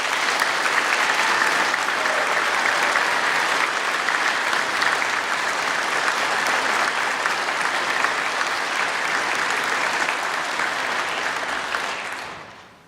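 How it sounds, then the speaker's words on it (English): Audience at an academic awards ceremony applauds the nominees, a dense, steady clapping that holds loud and even for about twelve seconds before fading out at the end. "Let us recognize these outstanding nominees with one more round of applause for them"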